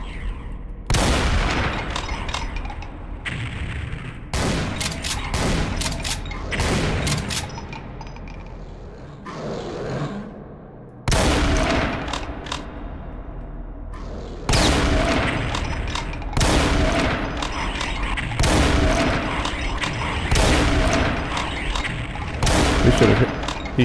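Bursts of heavy gunfire and explosions from the video game Brutal Doom 64 come in repeated volleys separated by short lulls, loud and close, with rapid shots and booming blasts.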